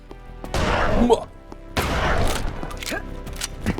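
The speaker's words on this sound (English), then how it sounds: "It's a double barrel super shotgun. And alt fire fires both the barrels at the same time." Two heavy blasts from a double-barrel super shotgun in a Duke Nukem game, each booming discharge fired with both barrels at once, loud and close, spaced about a second apart with a dull rumble trailing each.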